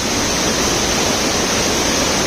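Savadav waterfall near Kankavli, a dense, loud, unbroken roar of rushing water and spray heard up close, steady for the whole span with no voices.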